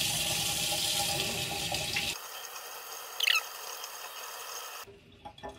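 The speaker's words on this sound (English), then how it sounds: "you're going to wash it with body temperatured water" Body-temperature water running from a tap while washing a jagua tattoo, a steady rushing flow that cuts out partway, followed by faint drips and small handling sounds.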